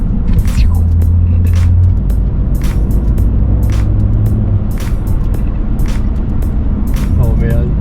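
Engine of a cheap twin-turbo BMW idling and revving with faint turbo whistle, a steady loud rumble with hissing bursts throughout, close by, while a person talks over it.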